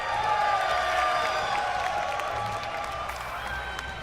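At the Red Bull Battle Grounds 2013 esports event, a large live crowd cheers and applauds steadily, a broad sustained roar of clapping and whoops, with a tonal hum underneath.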